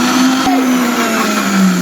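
A mixer grinder jar whirs steadily while blending a shake, a loud continuous motor drone with a high whine holding throughout, alone with no voices.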